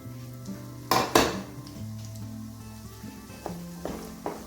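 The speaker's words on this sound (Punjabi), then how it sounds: "ਘਿਓ ਆਪਣਾ ਗਰਮ ਹੋ ਗਿਆ ਜੀ ਹੁਣ ਆਪਾਂ ਇਹਦੇ ਵਿੱਚ ਬੇਸਨ ਪਾ ਦਿੰਨੇ" Gram flour goes into hot ghee in a pan, setting off a couple of loud clattering knocks of utensil on pan, then a soft steady sizzle with occasional light taps.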